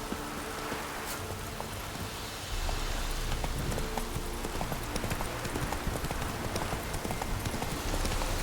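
Horse hooves clip-clop steadily in the video game The Witcher 3, a continuous rhythmic trotting over a busy ambient backdrop with a faint rain-like hiss.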